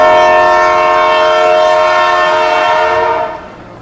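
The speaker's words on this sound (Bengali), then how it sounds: "হুইসেল মারার সাথে সাথেই গাড়ির স্পিড, চিন্তা শক্তিও দ্রুত এগোচ্ছে কৌস্তবের মনে।" A Shantipur local train sounds a long, loud, steady horn blast with strong harmonic tones, holding for over three seconds before cutting off, with rumbling rail noise underneath and no talking.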